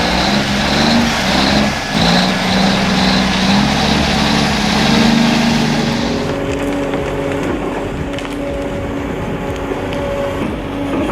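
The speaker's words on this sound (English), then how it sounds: "Not gonna lie, that engine sounds incredible." A heavy machinery engine runs loudly and close by during tree-clearing work. It makes a dense, continuous roar that eases slightly partway through, with no voices.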